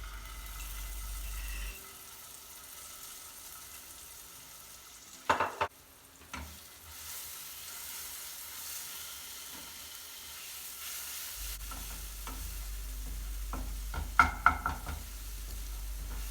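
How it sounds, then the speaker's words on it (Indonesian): Spice paste sautés in a little vegetable oil in a wok or nonstick pan, a quiet continuous sizzle with a few brief scraping knocks from stirring, up close. "Tumis bumbu hingga berwarna kuning dan wanginya keluar."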